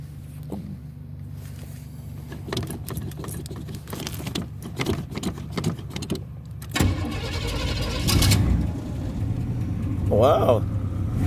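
A car engine cranking over on a chilly morning cold start, with repeated starter turns and a rough rumble that does not quite catch, heard up close alongside some speech.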